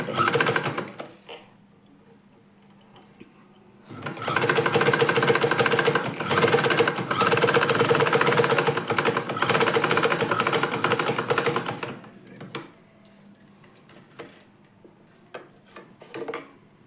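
A sewing machine stitches a salwar top at the neckline, a steady rapid clatter running for about eight seconds between quieter stretches of short starts, handling and clicks.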